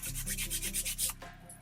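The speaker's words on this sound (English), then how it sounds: "I'm gonna go in with a 180 grit nail file. Just gonna file the sidewalls really fast" Quick back-and-forth strokes of a 180 grit nail file along the sidewalls of builder gel nails, a steady rhythmic scratchy rasping close up, stopping near the end.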